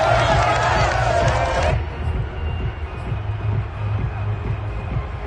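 Home crowd cheering in a Madden football video game, a loud roar of fans that drops sharply after a second or two into a quieter crowd murmur.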